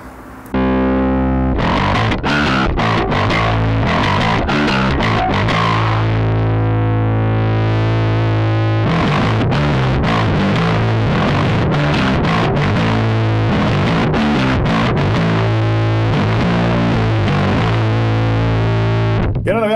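Bass guitar played through an Aguilar Tone Hammer 350 head with distortion engaged and the mids boosted, loud gritty sustained notes and riffs with a brief pause near the middle, no talking.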